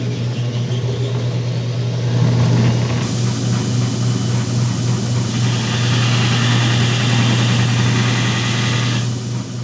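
A 2x72 belt grinder's electric motor hums steadily and loudly with a strong low drone and broadband whir, running continuously without pause.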